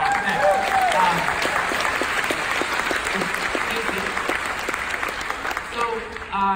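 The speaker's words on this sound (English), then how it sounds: "So let's just give these guys a round of applause." A round of audience applause fills the room, steady clapping heard alongside a voice talking over it, with the clapping thinning out near the end.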